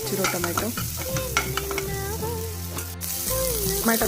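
Chopped tomato frying and being stirred in a pan for a quick lunchbox rice dish, with steady sizzling and repeated scraping strokes of the spoon, close and loud, over background music.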